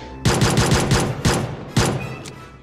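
Automatic gunfire in the mobile battle royale game PUBG Mobile, several loud rapid bursts of rounds close up, stopping and starting, with a short electronic tone afterward.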